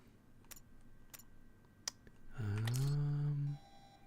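Warning beeps in the horror game Daymare 1998: a few sharp, spaced electronic clicks, then a single longer, louder buzzing tone that lasts about a second before cutting off.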